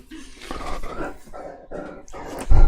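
A dog heard up close, giving a run of rough panting or growly breathy bursts in an uneven rhythm, ending with a louder thump near the end, with no talking.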